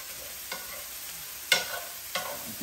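Soft sizzling of rice frying with a few scraping stirs in a pan, spaced out, fairly quiet and with no talking.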